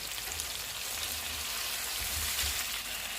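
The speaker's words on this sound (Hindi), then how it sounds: "ऑयल गर्म हो गया, इसमें चिकन के पीसेस रख देंगे।" Chicken tikka pieces sizzle steadily in hot oil in a pan, a dense, even crackle with no talk over it.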